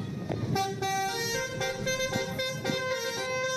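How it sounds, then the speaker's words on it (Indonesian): Bus telolet horn honking a multi-tone melodic tune in repeated bursts, loud and close, with faint traffic noise underneath. "Asik menikmati kelasan telolet bus."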